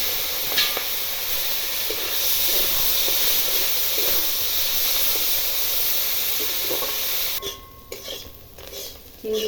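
Prawns coated in turmeric fry in hot oil in a pan, giving a continuous close sizzle and hiss with a few soft clinks and stirring scrapes before the sound thins near the end.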